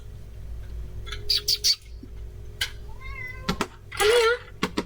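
A cat meows once in a short, clear mew amid bird chirps and squawks and brief bursts of other noise, with faint voices nearby.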